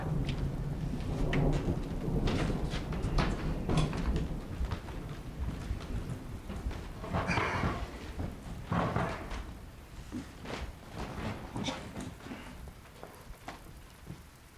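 Thunder rumbles in several heavy rolls over steady, heavy rain that keeps falling throughout, fairly faint and distant, with no voices heard.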